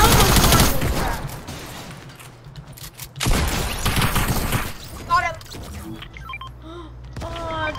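Gunfire from a weapon in the video game Fortnite, several bursts of rapid shots that come and go over about eight seconds, loud and close, mixed with game effects and players talking over it.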